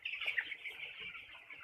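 A shed of about 2000 ten-day-old broiler chicks fills the air with a constant, high, faint chorus of peeping and chirping, with no voices over it.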